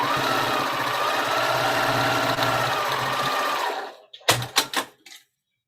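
A sewing machine runs steadily while stitching a quilt block for a pumpkin-themed quilt, a continuous whirring hum for about four seconds that stops, followed by a few short clicks and thumps.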